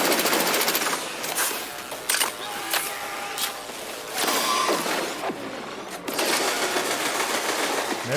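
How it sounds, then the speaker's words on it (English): Rapid gunfire with ricochets in the video game Cyberpunk 2077, loud bursts of automatic shots in dense rattling runs broken by brief pauses, against busy game noise. "That's a lot of ricochet shots."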